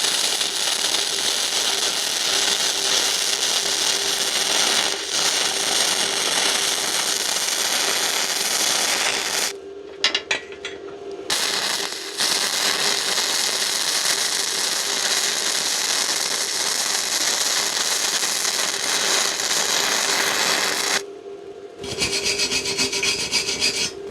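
Flux-core MIG welding with a BestARC MIG145 welder, a steady crackling, sizzling hiss that runs loud and continuous, broken by two short pauses where the arc stops before restarting.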